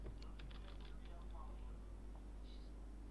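Keys on a computer keyboard clatter in a quick, light burst of presses, close and fairly quiet over a constant low hum, with speech present in the background.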